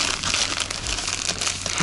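A plastic bag is crinkled and handled up close beside a river bank, giving a continuous rustling, crackling texture with low traffic rumble in the background.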